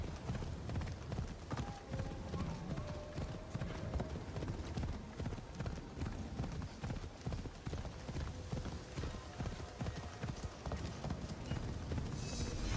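Horse hooves clip-clopping at a steady trotting rhythm in Assassin's Creed Shadows, continuous throughout over a low rumbling ambient bed, with a faint whinny and occasional game tones mixed in.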